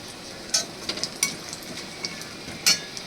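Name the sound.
cinnamon pieces and crushed cardamom sizzling in hot oil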